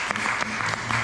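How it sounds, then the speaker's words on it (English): Audience applause at a community Juneteenth Freedom Day celebration, a brief steady patter of many hands clapping at moderate distance with no talking. "Let's give her a great big round of applause."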